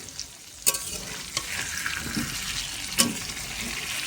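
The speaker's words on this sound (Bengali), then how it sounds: "কড়াইতে তেল দেওয়ার পরে আলু দিয়ে দিলাম এখন আলু ভাজছি" Potatoes fry in oil in a wok, a steady close sizzle with a few sharp clinks and stirring knocks of a utensil against the pan, no voices over it.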